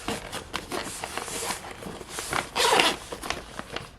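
Two zippers on a SabotHeat mini oven carry bag are pulled open, giving a few brisk, close ripping zips with some handling rustle in between and no talking.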